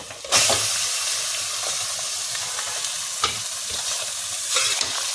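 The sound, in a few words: chicken frying with onions in pan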